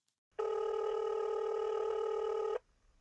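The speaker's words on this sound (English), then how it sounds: "She decided to phone Stuart, the janitor." A single steady electronic telephone tone sounds for about two seconds at moderate volume, alone and starting after brief silence.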